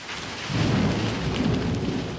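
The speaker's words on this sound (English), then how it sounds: "y'all hear that thunderstorm" A low rumble of thunder rolls in after a brief quiet, sustained and heavy, with a steady wash of rain hiss over it.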